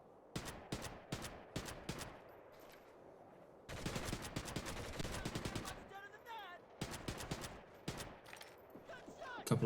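Bursts of gunfire from long-range shots in the World War II shooter Medal of Honor: Heroes, set at the Battle of the Bulge: several sharp single cracks, then a dense run of rapid shots, then more scattered reports, all loud with no talk.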